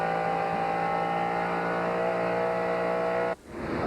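A NASCAR Winston Cup race car at Las Vegas Motor Speedway holds a loud, steady high-revving engine drone that suddenly drops away near the end, alone without talk.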